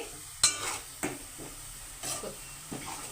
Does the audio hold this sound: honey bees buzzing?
no